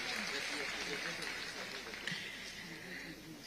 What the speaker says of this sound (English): Please, let's clap for Norbert Mao, who is going to lead us in that presentation.